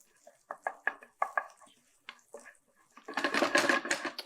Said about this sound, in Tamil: ஸோ இந்த மாதிரி பூண்டை வந்து லைட்டாக இப்படி டாஸ் பண்ணுறோம்